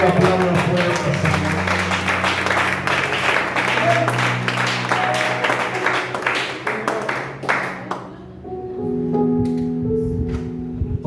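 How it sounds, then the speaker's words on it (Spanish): A church congregation applauds loudly and steadily as a dense wash of clapping, with music and voices mixed in, before the clapping fades near the end, leaving sustained organ-like tones and quieter talk. "Alguien que lo aplauda fuerte"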